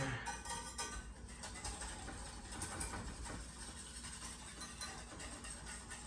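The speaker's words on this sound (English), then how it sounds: "So keep stirring, keep stirring, keep stirring." A whisk or spoon stirs a jello gazpacho mixture in a pan, producing a steady, close run of soft scraping and light metallic clinks without pause and with no voices.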